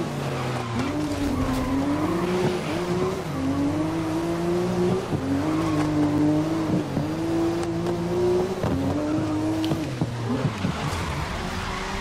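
A race car in GRID is held deliberately sideways, its tires squealing in long wavering tones over a steady, roaring engine throughout.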